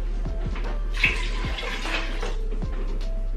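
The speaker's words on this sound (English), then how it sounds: "and then fill this up with water and put it in." Water runs steadily into a cooking pot on a kitchen stove with coconut milk already inside, a continuous hissing pour with a few light knocks and clatters along the way. No one talks.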